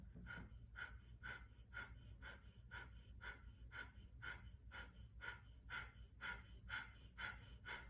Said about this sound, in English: So this is called Breath of Fire.